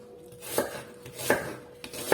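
Three distinct knife chops through onion on a cutting board, spaced irregularly about once every 0.6 to 0.7 seconds, close and crisp with no talking.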